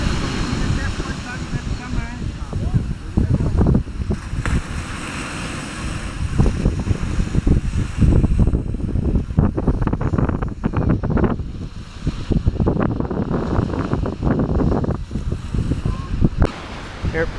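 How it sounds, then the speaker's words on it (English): Strong wind buffets the microphone at a beach with surf washing in, a continuous loud rushing roar with gusty swells and bursts throughout. "It's really windy here."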